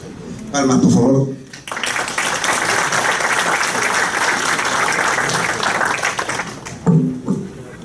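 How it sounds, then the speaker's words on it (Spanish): Sustained audience applause fills a conference hall in honour of an engineer's talk, a dense steady roar of many hands lasting several seconds, with a voice speaking briefly before and after. "Palmas, por favor."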